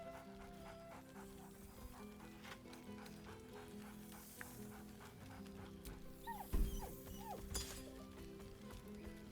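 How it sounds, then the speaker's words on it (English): An excited dog in the video game Baldur's Gate 3 pants faintly over a quiet bed of game ambience and music. A couple of short, louder barks come near the end. "Scratch barks merrily in something like agreement."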